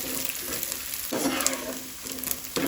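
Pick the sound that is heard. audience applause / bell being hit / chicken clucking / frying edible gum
frying edible gum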